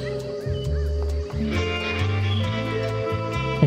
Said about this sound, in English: What's over here? Chickens?